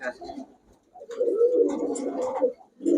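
Pigeons at a seller's coop give low, throaty coos in short repeated bursts, close by and moderately loud, with brief pauses between the calls.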